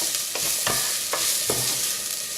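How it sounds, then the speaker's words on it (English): Onions softening in a frying pan are stirred for a pork stir fry, with a steady sizzle and several distinct scraping strokes of the spoon against the pan, close and fairly loud, with no talking. "carry on stirring these onions"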